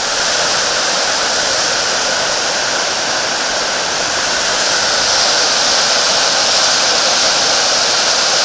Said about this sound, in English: Here's a little creek that is sometimes almost completely dry.